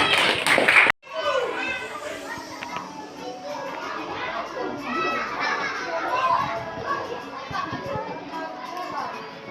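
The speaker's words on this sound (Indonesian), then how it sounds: "Oke, tepuk tangan dulu buat semua" In a classroom, children clap in scattered, uneven fashion amid lively chatter and playful noise, a busy crowd of young voices following a sharp burst at the start.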